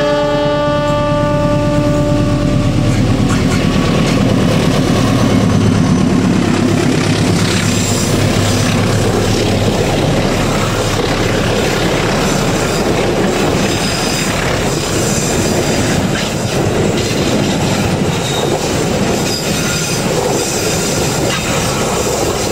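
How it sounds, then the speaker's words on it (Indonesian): The Argo Wilis passenger train rolls steadily past up close, a loud rumble with rhythmic wheel clatter and some metallic squeal, sustained throughout with no voices. "Dan ini dia, kereta api Argo Wilis."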